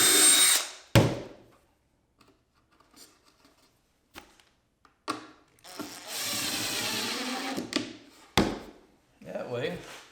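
Power drill driving screws into a cedar fence picket planter box, several short whirring bursts with pauses and handling knocks between, close by.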